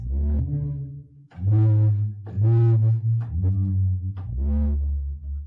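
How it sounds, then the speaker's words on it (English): An owl recording layered into music as a bass part, heard as deep, sustained tonal hoots with rich overtones in a slow, rhythmic sequence. "this is an owl on the bass."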